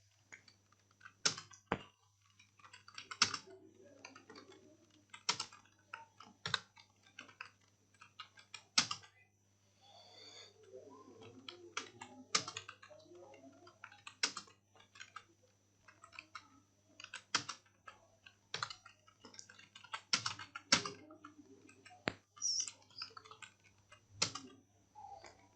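Text typed on a computer keyboard into InPage, a close, uneven series of crisp key clicks with short pauses between bursts over a faint steady hum, no speech.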